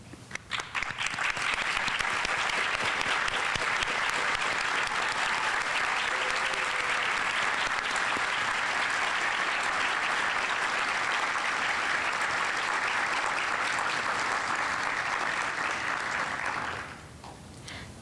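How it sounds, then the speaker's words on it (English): Sustained applause from a ceremony audience honoring teachers at an outstanding educators event, a steady full-room clapping that holds evenly for about fifteen seconds before tapering off at the end. "I ask that our National Board certified teachers please stand for a warm round of applause."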